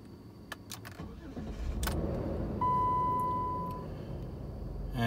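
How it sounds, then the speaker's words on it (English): A steady electronic chime tone from a Jeep dashboard, warning of a check engine fault with a catalytic converter problem, sounds for a second or so over a low engine rumble, preceded by a few short clicks and jangles. "it's chiming there to tell me that it has detected a fault in the system"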